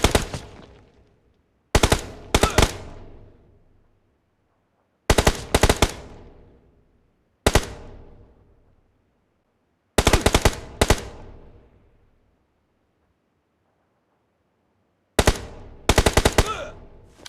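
Repeated loud gunfire from a scoped weapon in the game PUBG Mobile, fired in quick bursts of two or three shots separated by short pauses, each crack dying into a brief echo.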